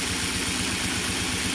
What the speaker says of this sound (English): this engine now is moving about as good as an American Flyer open frame motor can run